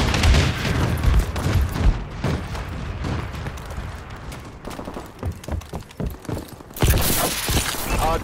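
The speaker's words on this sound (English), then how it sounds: "Friendly bombing run incoming." A bombing run in a shooter video game sets off a dense barrage of blasts and crackling debris, loud and continuous, with a fresh heavy burst near the end.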